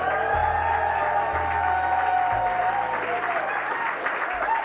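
A live audience in a studio just off Broadway in New York City applauds steadily and loudly, a sustained patter of clapping from start to finish with a low rhythmic music bed pulsing underneath.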